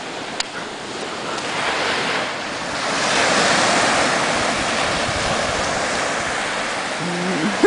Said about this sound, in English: We're here at the beach